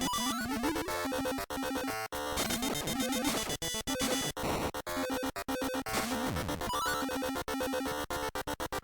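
Chiptune background music from the Crystalis Game Boy Color game, garbled into dense, harsh, stuttering noise by a status ailment sound effect, continuous and loud throughout with brief dropouts.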